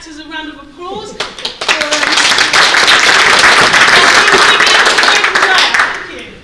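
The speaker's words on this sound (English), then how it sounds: "if you can give my actors a round of applause" An audience at a book event and stage performance in Woolwich applauds the actors, a quick voice at the start giving way to dense, loud clapping that builds and holds before fading near the end.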